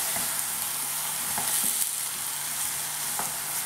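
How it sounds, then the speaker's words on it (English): Chopped tomatoes from a tin sizzle in a pan of cooking vegetables, a steady close frying hiss with a few soft stirring knocks scattered through it and no talking. "I'm going to add in my tin of chopped tomatoes, and I'll hear it sort of sizzle in a strange way"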